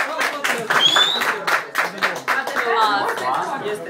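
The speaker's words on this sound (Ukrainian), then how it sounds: "Молодці. Оплески." Scattered clapping from a small group at a staff celebration in Lviv after candles are blown out, mixed with chatter and light laughter, lively and close, lasting a few seconds.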